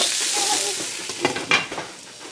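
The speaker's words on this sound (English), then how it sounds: "while my hash browns and that are cooking" Hash browns fry in a covered pan with a soft, constant sizzle, broken by a few scraping, clattering stirs toward the end of a short stretch; no talking.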